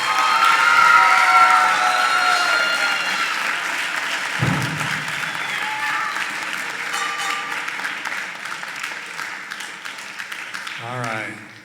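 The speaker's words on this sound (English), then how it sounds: "Let's give them a round of applause." Sustained audience applause for a band at a spring school concert, a dense crowd of clapping with some cheering that fades gradually over several seconds before a voice speaks briefly at the end.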